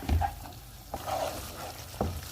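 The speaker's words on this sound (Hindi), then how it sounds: "अब इसको हम इतना पकाएंगे कि ये गाढ़ा हो जाए।" Pizza sauce of crushed red chili, sugar and oregano bubbling and thickening in a pan, a faint sizzle under a few spoon scrapes and stirring strokes, close and quiet.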